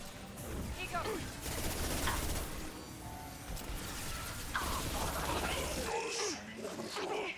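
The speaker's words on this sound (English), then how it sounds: "That fucking gun, though." Rapid gunfire from the video game Mass Effect 2 chatters almost nonstop, with bursts and crashing impacts piled on top of one another at moderate loudness, and voices talk over the battle.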